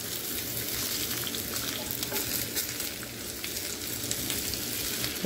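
Ridge gourd peel fries in a pan for chutney with a continuous, even sizzle and crackle and light stirring, with no talking.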